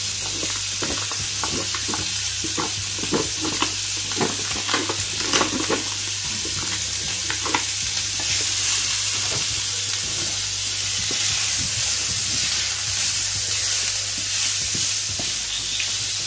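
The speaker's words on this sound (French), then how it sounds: "Dans une poêle chaude, je vais mettre un petit peu d'huile d'olive et je vais faire griller des petits lardons." Small bacon lardons sizzle steadily in olive oil in a hot pan, a continuous close frying hiss broken by scattered spatters and a few stirring scrapes.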